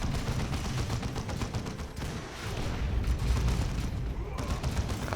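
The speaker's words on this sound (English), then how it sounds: "Don't open fire on your own guy." Dense gunfire from the Warhammer 40k: Dawn of War 2 video game, rapid overlapping shots and bursts forming a continuous loud barrage with heavier booms mixed in.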